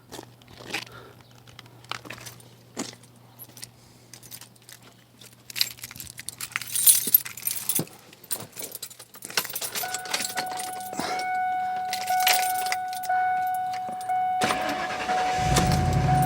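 A 1998 Ford Expedition with a 5.4L Triton V8 is started after jangling keys and clicks; the starter cranks briefly and the engine catches into a steady, rising idle toward the end.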